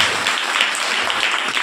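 A church congregation claps at a New Year sermon, dense scattered hand claps forming steady, fairly loud applause throughout with no voices on top.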